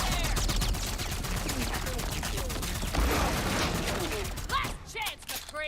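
Gunfire from an Overwatch 3D animation, a busy dense stretch of shots and mechanical clatter under a music-like bed, with a voice speaking partway through before the sound thins out near the end.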